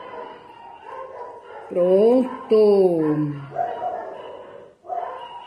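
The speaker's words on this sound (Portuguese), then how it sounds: "Hoje os cachorros estão que estão." Dogs bark and whine in the background during a live embroidery session, with a few drawn-out yelping barks in the middle while someone speaks over them.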